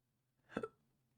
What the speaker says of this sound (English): I have sudden hiccups because I ate not so long ago.